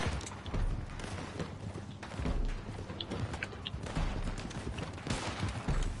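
Sniper gunfire in Red Dead Redemption 2 at McFarlane Ranch: a quiet, busy gunfight with scattered shots and thuds, some hoof clatter mixed in, steady at low level with no clear voice.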